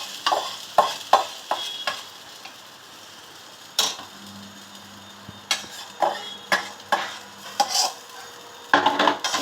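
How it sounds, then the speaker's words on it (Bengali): Spice paste for dhokar dalna hits about a spoonful of hot oil in a pan, giving a steady sizzle with repeated clinks and scrapes of stirring. "এবার আমি এই যে পেস্টটা এর মধ্যে ঢেলে দেবো।"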